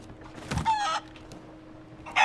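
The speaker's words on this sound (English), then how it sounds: "I can just hear the echo of the chickens." Chickens clucking and a rooster-like crow in the video game Sea of Thieves, a few sharp bursts close by with quiet gaps between, no talk over them.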